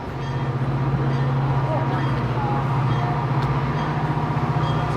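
A train rolls past near a car show, a loud, steady low rumble with rhythmic wheel clatter that lasts throughout.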